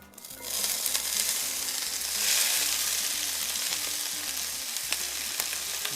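Vegetables hit a preheated pan for chicken watermelon tacos, bursting into a loud, bright sizzle that swells and then settles into a steady fry, with faint low clatter underneath.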